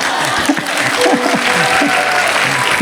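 Brief applause from a small audience of about twenty people at a church sermon, a short patter of claps under a talking voice.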